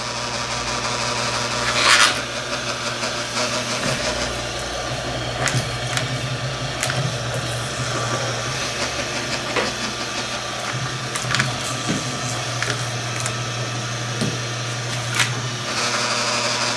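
Wire stripping machine working through copper Romex cable, a loud continuous mechanical grinding and rubbing with a steady hum, scattered scrapes and clunks throughout.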